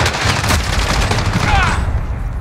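Rapid gunfire in Modern Warfare, a loud, dense stream of automatic shots that fades near the end, with faint voices underneath.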